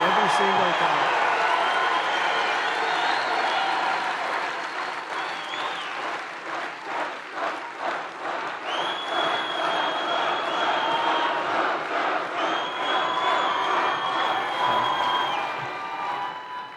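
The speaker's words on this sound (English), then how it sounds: "It's a very energetic crowd" A large crowd at a 2024 Trump campaign rally in Saginaw, Michigan cheers, whoops and applauds loudly and continuously, with the clapping swelling into rhythmic pulses midway before settling back into sustained roaring applause.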